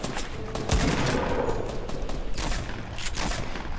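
Rapid minigun fire in the video game Fortnite rattles out in a dense, continuous burst of shots that carries on for several seconds at moderate volume.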